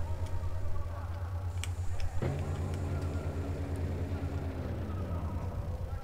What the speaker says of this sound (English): So you can hear the fan spinning.